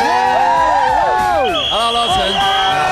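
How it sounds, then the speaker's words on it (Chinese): Excited audience on a TV variety show greeting a love-song singer, with loud, overlapping screams, whoops and cheers sweeping up and down in pitch from a crowd close by. "来，让我们热烈掌声欢迎 情歌王子"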